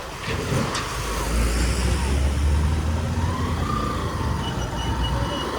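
Heavy trucks rumble past on a dusty, potholed road near Neral and Matheran, a low continuous engine drone with traffic noise heard from a moving motorbike.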